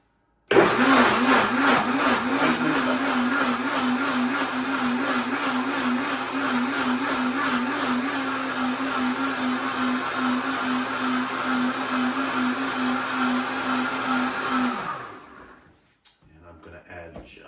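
A blender purées oven-roasted tomato vegetable soup under a lid draped with a towel, a loud, steady motor whine with a wavering pitch that runs for about fifteen seconds before cutting off and spinning down.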